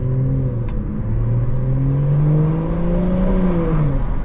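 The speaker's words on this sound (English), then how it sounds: "The noise of that turbo spooling up, and this is a stock turbo as well." Stage 2 BMW M240i with stock turbo, a loud close engine drone rising and falling in pitch as the turbo spools up under light throttle, heard from inside the car.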